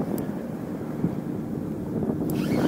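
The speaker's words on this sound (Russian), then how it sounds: "Ветер еще дует." Low, constant wind rumble buffeting the microphone beside a river while pike fishing in autumn, a steady outdoor roar with no speech.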